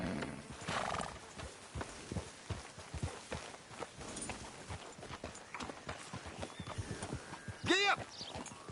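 Hooves clip-clop steadily as a horse is ridden in Red Dead Redemption 2, close and rhythmic, with a whinny near the end and faint talk underneath.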